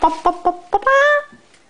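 A young child imitates a chick's call: four or five short, clipped, close syllables in a quick rhythm, then one longer, sustained, tonal cry that fades out.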